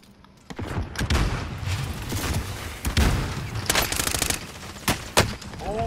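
Heavy, sustained gunfire in the video game Warzone, close and loud, with rapid bursts and booming shots overlapping throughout, a voice briefly audible under it.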